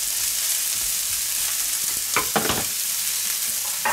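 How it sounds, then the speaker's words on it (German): Bacon and onions for Bohemian dumplings with egg slowly brown in a pan with a steady, close sizzle. A few sharp scrapes of stirring break in near the middle and again at the end. "Speck und die Zwiebeln. Auch schön anschmoren lassen."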